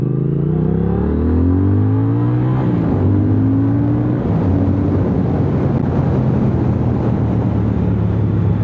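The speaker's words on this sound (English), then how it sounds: "the noise you get from the parallel twin 270-degree crank is special" A 2024 Triumph Speed Twin 1200 parallel-twin engine with a 270-degree crank revs up through rising and shifting tones under heavy wind rush, then settles into a loud, steady drone while riding.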